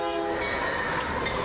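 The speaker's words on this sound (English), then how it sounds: "Denton Police Officer Gary Craig, spending his morning on board a freight train" Freight train of the Union Pacific Railroad rolling steadily past, a continuous loud rumble with sustained horn-like tones running through the whole moment, no voices.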